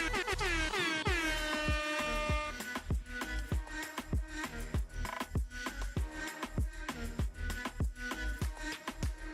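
A loud air horn blasts over a pounding beat, then keeps stabbing in short repeated honks along with the rhythm, close and punchy.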